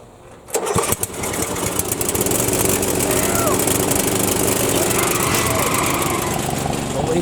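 A White Outdoor LT15 riding mower engine cranks briefly, catches and settles into a loud, steady running drone that continues to the end.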